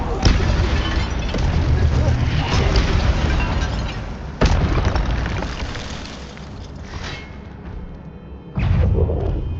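Fire spell blasts in the Hogwarts Legacy video game, heavy booming bursts at the start, near 4.5 s and near 8.7 s, each followed by a roaring rumble.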